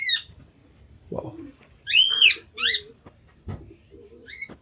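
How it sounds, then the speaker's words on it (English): Parrots call in a Beijing hutong with several separate whistling and squawking notes, spaced irregularly, at moderate distance and fairly faint, with no talk over them. "there's some parrots as well."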